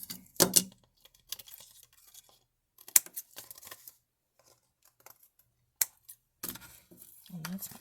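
Paper being cut with scissors while making a handmade gift card holder, heard as a few short, close snips and crisp rustles scattered between quiet pauses.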